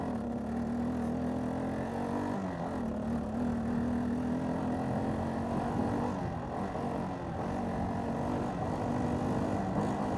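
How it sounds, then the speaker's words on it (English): A Kawasaki Bayou 400 4x4 ATV engine drones steadily on a test ride, its single-cylinder hum holding near and loud for about ten seconds with slight pitch wavering, no voices over it. "We'll pick up the pace here and see how she runs."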